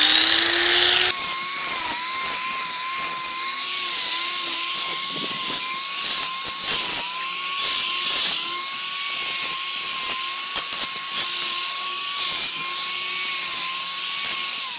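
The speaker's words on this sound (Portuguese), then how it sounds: "Agora eu vou passar a esmerilhadeira aqui só para tirar essas pontas" An angle grinder grinds the sharp ends off metal rebar for a rustic handle. It makes a loud, steady, high whine with rough rasping surges where the disc bites the metal, running continuously for the whole stretch.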